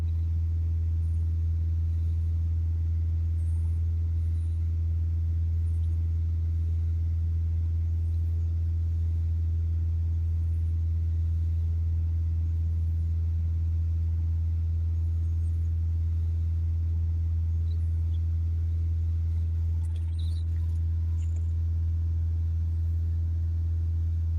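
A Peugeot Expert 2.0 van engine with a particle filter fault runs at a steady low rumble, loud and close, with its revs held fairly even and no talking throughout.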